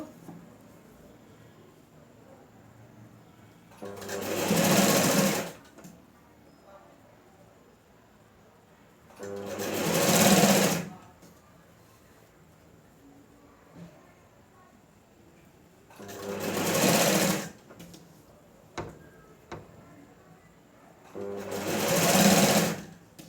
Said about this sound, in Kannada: ಇದನ್ನು ಸ್ಟಿಚ್ ಮಾಡ್ತಾ ಬರಬೇಕು ಮತ್ತೆ ಒಂದು ಕಾಲು ಇಂಚಿಗೆ ಏನಿತ್ತಲ್ಲ ಸ್ಟಿಚ್ ಮಾಡ್ತಾ ಬರಬೇಕು